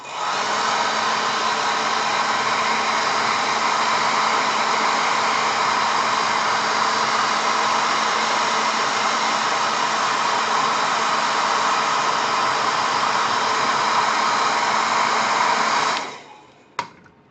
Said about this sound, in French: là, on peut passer un petit coup de sèche-cheveux pour accélérer.